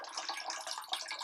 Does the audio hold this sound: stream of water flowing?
yes